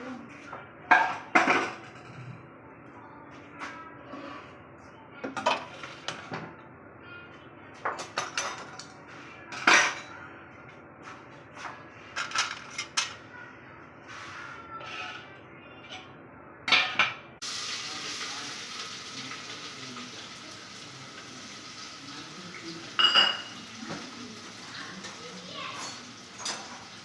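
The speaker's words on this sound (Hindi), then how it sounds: "तो मैं टमाटर प्याज वगैरह काटती हूँ" Tomatoes and onions being chopped in a home kitchen for salted rice, with irregular sharp knife taps and clinks of utensils and dishes, close and fairly loud, scattered over about half a minute.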